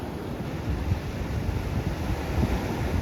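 Sea waves wash and churn under gusting wind at the shore before rain, a steady, close surf rumble with soft surges and no voices.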